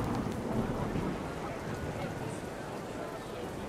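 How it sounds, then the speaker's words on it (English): Steady rain pouring down with a low rumbling of thunder underneath, a dense, continuous wash of noise, in the video game What Remains of Edith Finch. "The rain came down in buckets then"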